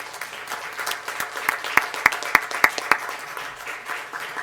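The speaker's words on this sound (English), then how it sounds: "I would like to ask for one more round of applause for all of the people that serve on" A round of applause at a school board meeting, moderate crowd clapping with several distinct loud claps standing out in the middle before it thins.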